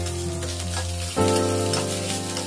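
Curry leaves and mustard seeds sputter and sizzle in hot oil for a semolina dish. The crackle is constant and close, over a steady background hum, and briefly swells as the pan is stirred.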